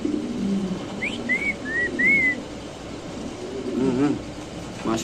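A pair of Mundian pigeons cooing softly at close range, low throaty coos in short bursts, mixed with a few high whistled notes and background chatter of a busy pigeon market.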